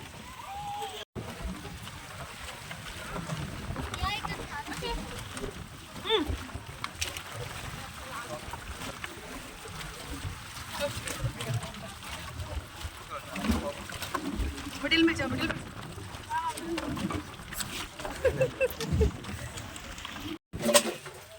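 A boat moving on the water at Langkawi, Malaysia, with steady engine and water noise throughout the stretch, people talking over it, and a few sharp knocks near the start and end.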